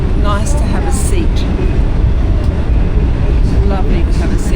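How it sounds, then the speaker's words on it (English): A New York City subway train riding uptown gives a loud, steady rumbling roar with rattling and occasional squeals, continuous throughout. "We're on the subway. Heading uptown."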